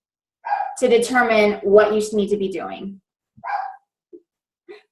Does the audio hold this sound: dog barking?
yes